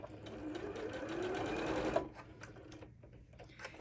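A sewing machine steadily stitches around the curves of a flower-petal drawstring bag, running close and continuously for about two seconds before stopping, followed by a few faint handling clicks.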